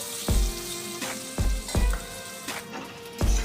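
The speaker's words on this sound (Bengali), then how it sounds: "একটু নেড়ে চেড়ে দিয়ে দিলাম বাকি কুচানো পেঁয়াজগুলো। এবার এগুলোকে লাল লাল করে ভেজে নিচ্ছি।" Chopped onions fry with dry chillies and whole garam masala in a pan, a steady close sizzle broken by several loud stirring scrapes at irregular intervals, with no voices.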